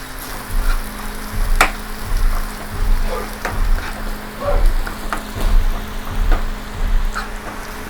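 Curry leaves sizzling in hot oil while tuna roast is prepared: a steady frying crackle with sharp pops, under a low background hum, no talking.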